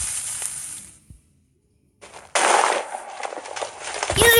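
A TNT explosion sound effect: a burst that decays into silence, then a second loud blast with a crackling, rumbling tail that swells again near the end.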